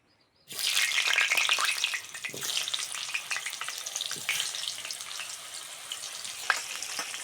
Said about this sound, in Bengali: তেল গরম হয়ে গেছে সামান্য লবণ দিয়ে দেবো কেটে ধুয়ে রাখা আলুগুলো দিয়ে দেবো